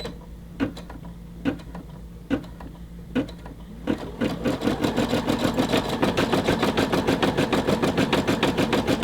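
A Brother SE600 sewing machine starts with a few slow, separate needle thumps, then settles into a fast, even stitching rhythm that runs continuously to the end.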